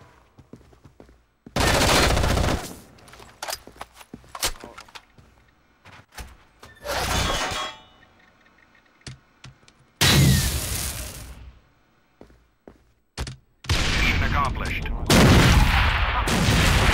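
Bursts of rapid gunfire sound in a shooting video game, several loud clustered volleys separated by quieter stretches, with a player talking in between.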